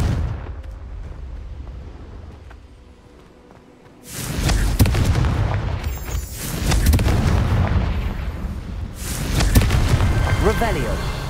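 A Confringo blasting spell in Hogwarts Legacy sets off a loud, sustained rumbling explosion that swells and rolls on for several seconds after a quieter stretch, with a second burst near the end.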